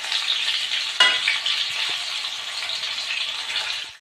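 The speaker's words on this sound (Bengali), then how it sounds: "এবার হালকাভাবে একটু এপিট ওপিট করে ভেজে নেব।" Fish-stuffed boiled potatoes frying in oil give a steady, close sizzle through the whole stretch, with a sharp clatter about a second in as they are turned.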